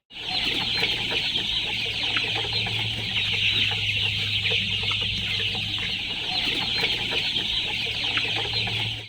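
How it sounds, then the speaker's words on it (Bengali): Dense, constant clucking and chattering from about two thousand chickens fills a rooftop poultry shed, loud and continuous with no voices. "ছাদের উপরে উনি করেছে আরো দুই হাজার মুরগির শেড আসেন দেখি আমরা"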